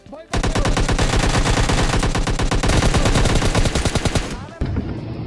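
Automatic gunfire in the mobile shooter game PUBG Mobile Lite: one long, rapid burst of loud shots fired close, lasting about four seconds before stopping abruptly, followed by a brief further crack.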